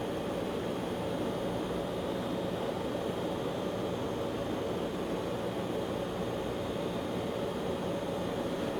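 Simulated Hawker HS748 turboprop airliner taxiing in a flight simulator, a steady, loud engine drone with broadband rumble and a faint whine, unchanging and unbroken throughout.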